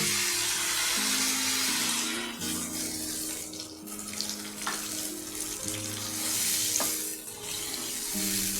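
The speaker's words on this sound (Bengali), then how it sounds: "এখন আমি তাতে দিয়ে দিব জল।" Water is poured into a sizzling spiced curry for Katla fish kalia, a steady splashing, hissing stream mixing with frying sizzle, continuous and moderately close with a faint tonal hum underneath.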